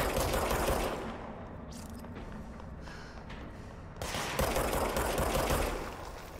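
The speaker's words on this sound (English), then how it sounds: "now we have people shooting back" Gunfire rattles in the video game Control, sustained bursts of rapid shots forming a loud, continuous barrage with a brief lull in the middle and no talk.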